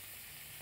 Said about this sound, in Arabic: الصوت اللي بيطلع ده علشان الجمبري طبعا ده مجمد